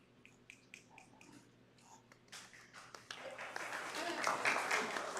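An audience at a candidate forum in Orlando breaks into clapping that starts sparse and builds into dense, loud applause, following a few soft taps and some faint talk at the start.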